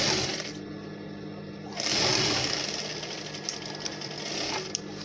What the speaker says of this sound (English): you sew all the way down as well